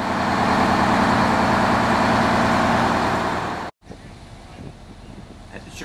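A Worthington fire engine with a 365 horsepower engine and an Allison automatic transmission drives hard, a loud, steady engine roar mixed with rushing wind that cuts off abruptly and gives way to quieter ambient noise.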